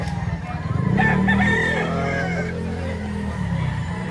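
A rooster crows once, its drawn-out call rising and falling over a steady low hum, fairly close and clear.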